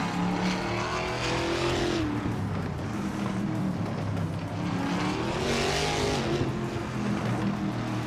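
Ford Mustang race car engine roaring steadily in a racing video game, rising and falling in pitch as it accelerates through gears, loud and continuous with a brief tire squeal.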